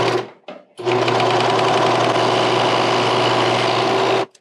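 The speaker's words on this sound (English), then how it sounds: "I just want to try sewing on another knit, see if we get a different result." A serger sews a seam on bamboo cotton knit fabric, a loud steady whirring motor run lasting about three and a half seconds after a brief start, then stopping abruptly; close and alone.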